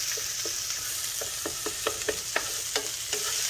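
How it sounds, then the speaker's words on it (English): Vegetables for duck fried rice sweat gently in a pan, a soft steady sizzle broken by intermittent scraping stir strokes, close and fairly quiet, with no talking. "We're gonna gently cook this, sweat this vegetable for a few minutes."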